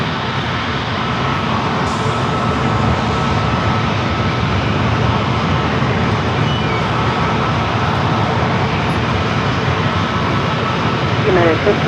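Airliner taking off from runway 27 at San Diego airport, a steady broad engine roar filling the whole span with no clear build or fade, tower radio chatter faintly present.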